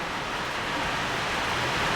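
A sudden heavy downpour over farmland pours in a dense, unbroken roar that stays loud and even throughout, with no voices.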